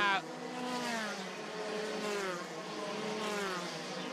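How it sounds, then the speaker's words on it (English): Formula 3 race car lapping the Macau street circuit heard on board, its engine whining and rising through the revs with a gear change, steady and close. "as we go on board with Mortara past our commentary position"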